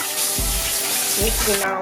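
Cold tap water runs over raw chicken being washed with lemon in a sink, a loud close rushing splash that briefly changes tone as the flow hits the meat.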